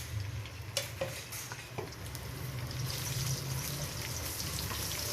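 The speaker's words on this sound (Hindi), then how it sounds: "तो लहसुन को इतना फ्राई करना है कि इसका कच्चापन खत्म हो जाए।" Minced garlic frying in a pan for an aloo baingan sabzi, a steady soft sizzle with occasional stirring clicks and scrapes running throughout.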